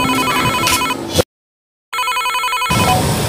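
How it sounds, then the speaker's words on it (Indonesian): A telephone rings in electronic bursts, loud and close, with a brief silent gap between rings and no talking. "Ya gue telepon Kubil dulu dah."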